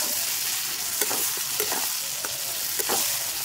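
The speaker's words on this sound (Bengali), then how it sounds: "এইভাবে অনবরত নাড়াচাড়া করতে হবে" Eggplant cooking in fish-oil curry in a pan, a constant close sizzle broken by a few scraping spoon strokes as it is stirred, with no talking.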